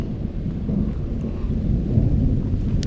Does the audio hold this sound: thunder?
yes